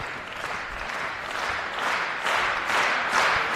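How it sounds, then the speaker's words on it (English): A crowd at a table tennis match applauds Waldner, dense continuous clapping swelling in waves from a large audience. "And the crowd is cheering for Waldner"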